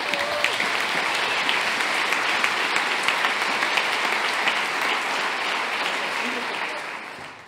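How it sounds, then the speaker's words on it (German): Big, steady audience applause at a Bavarian joke championship, a dense crowd clapping continuously with a few sharp claps poking through, tapering off in the final moment. "Sie zählt noch einen großen Applaus für unsere Cora."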